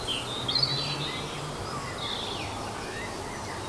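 Spring morning birds chirp faintly in short high calls against a steady low outdoor hum, more distant and sparse than a full chorus.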